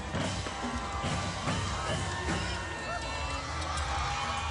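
A parade crowd at the Gasparilla Pirate Festival cheering for the Spoto High School band, a loud, dense roar of voices and whoops that holds steady throughout.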